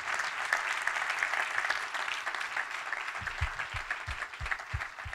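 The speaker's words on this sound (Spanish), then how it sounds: "Denle un aplauso." Dense applause from a crowd fills the clip, with rhythmic low thumps joining in toward the end.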